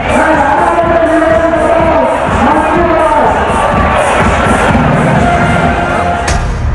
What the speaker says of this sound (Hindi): हजारों हिंदुओं की भीड़ रामनवमी की शोभा यात्रा में शामिल है।